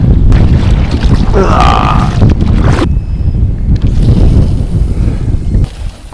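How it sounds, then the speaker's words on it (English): Strong wind buffets the microphone on a lake while kayak fishing at Ewan Maddock Dam, a loud rumbling roar with gusts, broken briefly by a quieter lull and a faint tonal whine before the buffeting returns. "the wind has changed direction"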